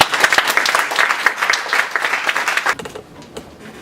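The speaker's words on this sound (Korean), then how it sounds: "우리 목사님 나오실 때 힘차게 우리 박수로 환영하십시오" A church congregation claps vigorously to welcome the pastor at a New Jersey Native American mission opening service, brisk dense clapping that stops abruptly near three seconds, leaving quiet room tone.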